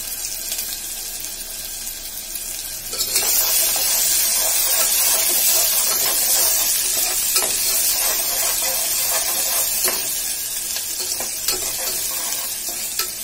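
Onions frying in a pan for a tamarind mutton curry, a steady loud sizzle that swells after a few seconds and hisses on without pause, close up.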